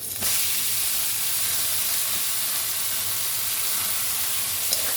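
Fish dropped into hot oil sizzle and hiss loudly and steadily throughout, a dense frying roar close up with no talking.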